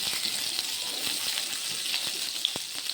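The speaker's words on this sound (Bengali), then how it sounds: "ওই তেলের মধ্যে একটুখানি তেল দিয়ে এইবার উচ্ছেগুলো ভেজে দেব" Bitter gourd slices frying in hot oil, a steady dense sizzle with faint crackles and pops running evenly throughout, close and moderately loud with no talking.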